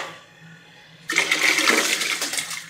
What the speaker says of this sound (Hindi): 1 किलो चावल है जो मैंने पानी में डाल दिया